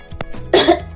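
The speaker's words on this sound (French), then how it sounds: "Quand tu tousses, tu recraches des glaires." A person coughs, a short throat sound followed by a strong, close cough and then a second cough that is cut off at the end. No other sounds are heard.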